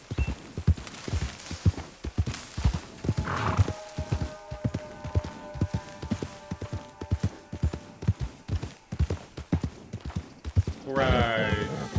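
Horse hooves clip-clop in a fast gallop in the video game Red Dead Redemption 2, rhythmic and close, ending in a loud neigh, with someone talking over it.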